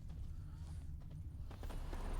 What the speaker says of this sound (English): we're gonna have a horse race on the way back